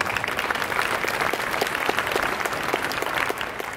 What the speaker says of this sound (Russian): Спасибо, что аплодируете.